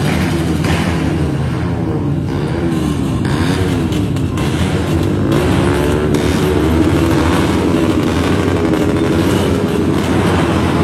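Motorcycle engines with custom exhausts rev loudly and repeatedly under the Suramadu Bridge, exhausts roaring and rising in pitch close by, one throttle burst after another.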